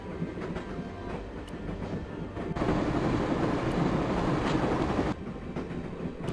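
Steady rumble and rhythmic clatter of a train ride in the video game Broken Sword: The Shadow of the Templars, a continuous close rolling din with a louder stretch in the middle, no talk.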